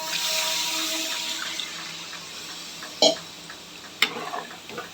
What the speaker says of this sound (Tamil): இப்போ நான் தண்ணி சேர்த்துக்கிறேன்